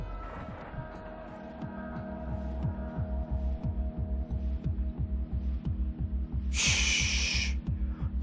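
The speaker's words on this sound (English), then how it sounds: "sighs of old trains long abandoned. They make these long, slow, deep tones all day." Abandoned trains in the video game Off-Peak give off low, deep droning tones, a steady hum under an even, slow throbbing pulse, with a brief brighter hiss near the end.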